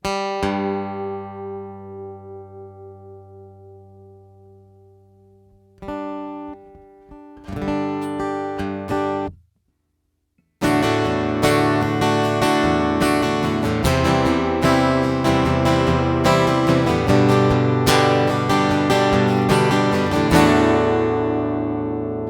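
Strummed acoustic guitar, tuned slightly flat, ringing out chords, a single chord decaying first, then a brief pause before steady, full rhythmic strumming continues loud and close.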